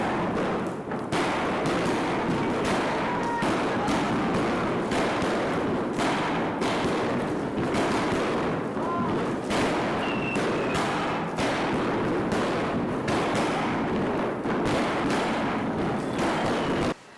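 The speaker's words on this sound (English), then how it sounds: "they blessed us with our own personal fireworks show" Fireworks crackle and bang without pause at Rongwu temple in Qinghai, a dense, loud barrage of overlapping pops and bursts that continues for the full stretch.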